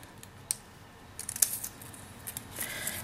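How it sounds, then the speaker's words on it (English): Scissors snip through a paper cupcake liner in a few crisp, close cuts with soft paper rustling between them. No one speaks. "You're going to take your scissors and cut through the cupcake liner just to the inside of the circle"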